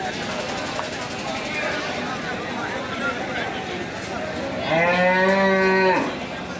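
A cow gives one long, loud, close moo at a cattle market in Jagraon, Punjab. It rises over the general crowd noise and people talking in the background.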